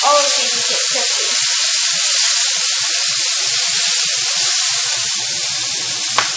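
Pork and vegetables in a hot pan on high heat, a loud continuous hiss of sizzling oil right up close with a faint scrape of a spatula near the end, no talking.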